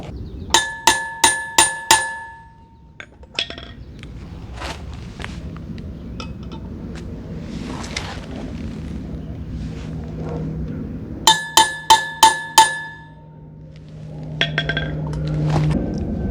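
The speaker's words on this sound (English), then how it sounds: "Use a rubber mallet just to kind of get it nice and square before you start to drive it in." A new wheel bearing is driven into a Honda Rebel 1100 motorcycle wheel, first with a rubber mallet: bursts of four or five quick metallic strikes ring out clearly, with scraping and clatter between the volleys.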